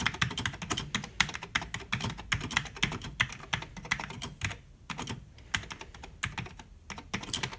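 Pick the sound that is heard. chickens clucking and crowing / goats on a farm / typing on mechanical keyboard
typing on mechanical keyboard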